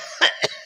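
An imam coughs during a mosque prayer gathering: two short, sharp coughs close by, with the start of a third at the very end.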